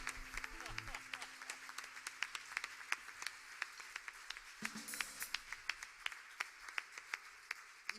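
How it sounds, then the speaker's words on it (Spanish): An audience at a live cumbia music event applauds with sustained clapping and scattered sharp claps, heard throughout under a presenter's voice. "para los que pedimos un aplauso enorme"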